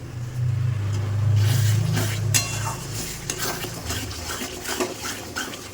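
Mutton spice paste being stir-fried in a pan, a low bubbling sizzle at first that gives way to repeated scraping and clinking strokes of a spatula against the cookware, close and moderately loud, without talk.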